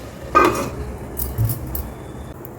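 A lid set onto a pan of simmering wheat rava masala upma on low heat, heard as a single close metallic clatter followed by quieter faint knocks.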